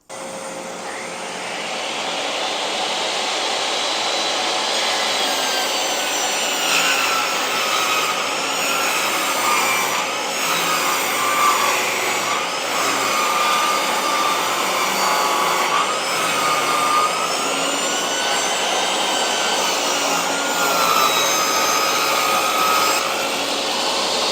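A table saw blade runs through wood in a woodworking shop, a loud, sustained whining roar held for over twenty seconds with slight pitch wavers as the cut progresses, and no voices.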